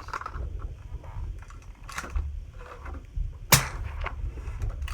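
A suppressed 300 Blackout rifle fires a single sharp, muffled crack during a suppressor test, with a smaller click earlier over low outdoor rumble.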